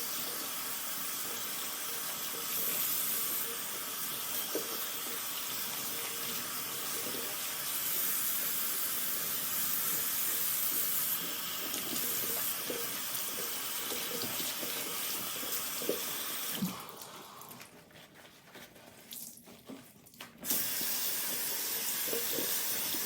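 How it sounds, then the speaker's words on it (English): Dyed cross stitch fabric rinsed under a running tap, a steady hiss of flowing water into a sink with soft splashes and handling sounds, briefly interrupted near the end before the stream resumes. "I'm gonna rinse this out and wring it out as much as I possibly can until the water is clear"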